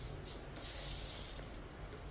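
Mustard seeds hiss and sizzle in hot oil in a home kitchen while a banana stem stir-fry is being made, a steady close frying crackle with no voices.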